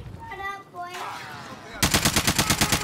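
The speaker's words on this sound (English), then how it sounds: "Oh, they're getting shot at." Gunfire in the Call of Duty: Modern Warfare video game. Game ambience and a voice come first, then a loud, rapid burst of automatic fire hammers out in evenly spaced shots for about a second.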